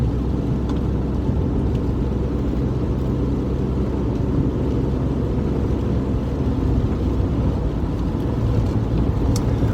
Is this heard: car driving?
yes